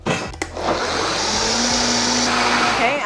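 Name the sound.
blender running, blending vegan pumpkin cheesecake filling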